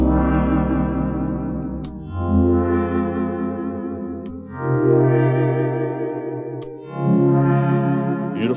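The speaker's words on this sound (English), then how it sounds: "So this first sound is called Blue Winter." Synthesizer preset Blue Winter from The Prince VST, playing four sustained chords that each swell and fade, with a deep bass underneath and faint clicks between chords, echoey and effected, with no voices.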